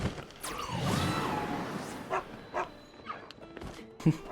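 A dog barks in the Zelda: Tears of the Kingdom game world near Riverside Stable, with a few short barks and yips in a row over whooshing game sounds.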